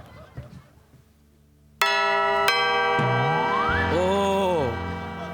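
A doorbell rings loudly after a quiet stretch, producing a sustained electronic chime with bright ringing tones and a short gliding melodic phrase, close by.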